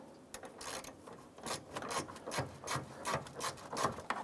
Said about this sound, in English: I'm going to use a 10 millimeter socket here and remove this bolt.